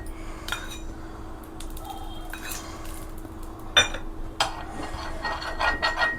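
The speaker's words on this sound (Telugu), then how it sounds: "ఇలాగా ఒకటి దోశ పెనం ఏదో ఒకటి ఇలా పెట్టుకోండి. దానికి చక్కగా ఆయిల్ మొత్తం స్ప్రెడ్ చేసేసుకోండి." A metal dosa pan set on a stove with oil spread across it, heard as a few sharp clinks and knocks of metal over a low steady background, fairly close and isolated.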